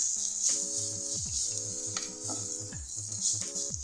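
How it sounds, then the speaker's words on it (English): A spoon stirs a spice mixture of coriander leaves, garam masala, turmeric and chili powder in a pan for Indian-style crab soup, soft repeated scraping over a steady background hiss, with no talking. "Let's stir all this well."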